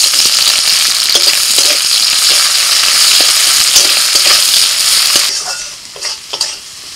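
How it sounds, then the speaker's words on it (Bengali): Chopped onions fry in hot oil in a steady, loud, close sizzling hiss that eases off near the end, with a few light scrapes of stirring. "পেঁয়াজটা ভাজা হয়ে গেছে"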